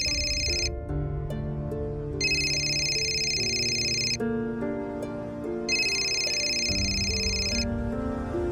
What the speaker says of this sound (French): Ton téléphone sonne, qui t'appelle?